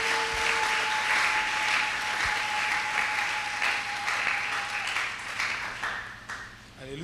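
A church congregation applauds in a steady, dense wash of clapping that lasts several seconds and fades slightly toward the end, with a faint sustained tone beneath it.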